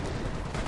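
Sustained machine-gun fire, MG and Bren guns in a WWII strategy game, a dense continuous rattle of overlapping shots filling the whole moment at steady loudness.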